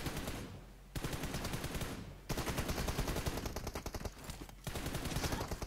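Rapid automatic gunfire in the video game PUBG Mobile comes in dense, loud bursts with short pauses between them and no talk over it.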